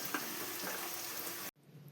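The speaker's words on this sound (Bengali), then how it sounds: "ততক্ষণ এই পেঁয়াজটাকে তেলের মধ্যে ভালো করে নেড়ে নেব।" Onions turning red as they fry in oil for a kosha chicken curry, giving a steady, close hiss of sizzling that cuts off abruptly near the end, leaving a faint low background.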